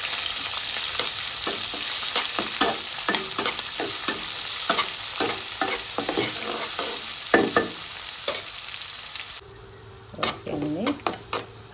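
Green chillies and onions frying in a pan with a loud, dense sizzle and repeated stirring scrapes. Near the end the sizzle drops out, leaving a few separate clinks and scrapes.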